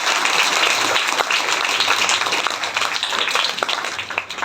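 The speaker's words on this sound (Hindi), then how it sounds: "ताली बजाइए जोर से प्रभु" Church congregation at a Sunday service claps loudly together, a dense burst of applause that fades slightly toward the end, with no talking over it.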